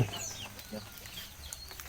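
A rooster on a farm clucks in short scattered calls over a low steady background, moderately near, with no talking heard.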